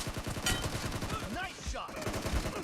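Gunfire in the mobile video game BGMI, rapid bursts of shots rattling close and fairly loud through most of the stretch, with a few sharper single reports and some faint game effects underneath.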